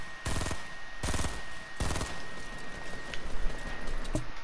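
Gunfire in Fortnite, three loud bursts of rapid automatic shots in quick succession, each lasting about half a second, followed by a quieter sharp shot near the end.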